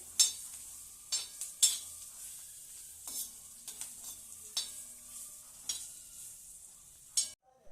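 Green chillies fry in a pan with masala and are stirred in quick bursts, sharp sizzling scrapes recurring every second or so over a quiet background, close and clear, with no talking.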